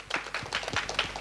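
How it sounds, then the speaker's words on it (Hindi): Clapping from an audience at a Punjabi film trailer launch for an actress, a quick run of close, sharp hand claps with no voices over it. "एंड इनके लिए बहुत सारी तालियां हो जाए"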